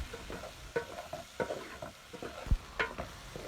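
Spices frying for a tadka in a pan, crackling and sizzling with scattered sharp pops and stirring scrapes at close range, one louder clack near the end, no talking.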